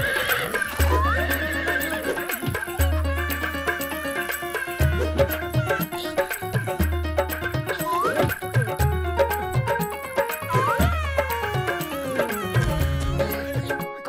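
A cartoon robot horse from a Hindi children's cartoon neighs repeatedly in rising whinnies over rhythmic clip-clopping hooves. The layered, busy mix continues throughout.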